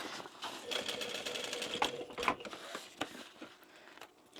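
A sewing machine stitches a short seam on a bag lining, a soft rapid needle patter at close range over a few seconds, fairly quiet throughout.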